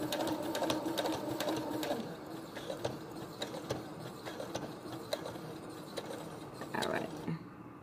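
Sewing machine stitching unpinned fabric pieces of a face mask, a steady close rapid whirring hum running almost the whole time, with brief pauses and a soft click near the end.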